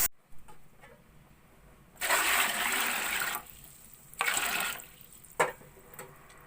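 Water gushes in two bursts into a cooking pot holding rice for pulao, a long pour then a shorter one, loud and close, with a brief clatter near the end.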